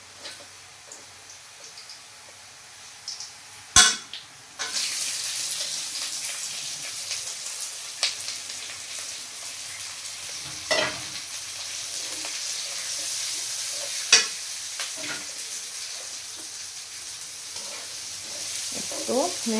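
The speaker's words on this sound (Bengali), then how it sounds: "তো এখন আমি ডাল ছেড়ে দিব।" Lentils (dal) tipped into a pan of fried onions, landing with a sudden sharp crash of hot oil that turns into a loud, steady sizzle, broken by occasional scraping stirs close up and a faint voice in the background.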